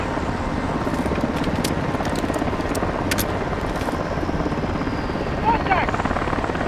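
Helicopter rotor chop in a Call of Duty Modern Warfare 2 battle, a steady loud thrum running the whole time under gunfire and voices, with a few sharp cracks near the start and middle.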